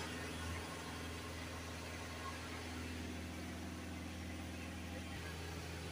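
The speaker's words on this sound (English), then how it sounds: "Okay, now we'll start the van up again, see what happens now." A VW Crafter 2.0 TDI van's diesel engine idles steadily with a low, even hum, faint and somewhat distant, with no other sounds over it.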